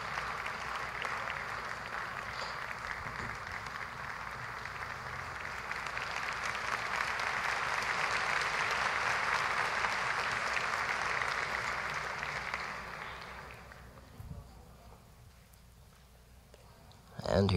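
Sustained concert-hall audience applause for the soloists after a choral performance of Walton's Gloria, a dense even wash that swells mid-way and then tapers off, ending in a brief sharp noise.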